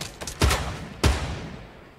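A close Fortnite gunshot, two loud sharp cracks about half a second apart, each trailing off in a short echo over faint background noise.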